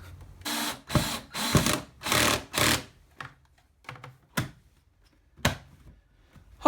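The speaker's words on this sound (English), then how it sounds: "I'm just gonna try to put a screw through right here and see what happens" A power drill drives a screw to mount an Orbit B-Hyve 12-station WiFi sprinkler timer, giving several short, close whirring bursts followed by sparse clicks and taps.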